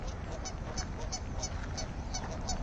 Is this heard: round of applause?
no